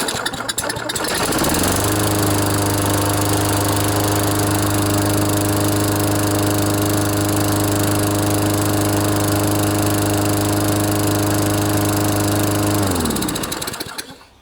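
A Toro lawnmower engine with a freshly rebuilt carburetor starts up and runs at a steady, loud idle, a constant droning hum close by that holds for over ten seconds before cutting off.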